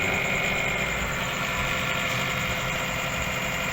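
The small motor under the egg tray of a homemade chicken egg incubator runs as a steady, even mechanical hum with a faint buzzing vibration, constant and close throughout.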